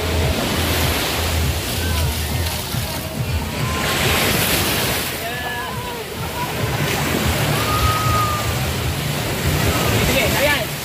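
Sea waves wash continuously onto a beach with wind buffeting the microphone, while a group of people chatter and call out over the surf.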